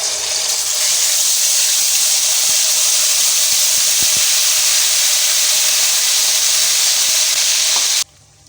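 Boiled onion paste hits hot oil with browned fenugreek seeds, giving a loud, continuous close-up sizzle and hiss that holds steady for several seconds before cutting off abruptly.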